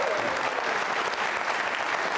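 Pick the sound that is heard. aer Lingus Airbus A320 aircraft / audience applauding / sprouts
audience applauding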